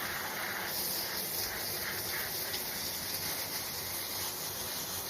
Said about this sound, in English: we'll go ahead and basically just spray everything down